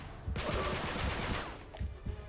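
Rapid bursts of automatic gunfire in Uncharted 3: Drake's Deception rattle for about a second, followed by a couple of isolated shots, with no talking.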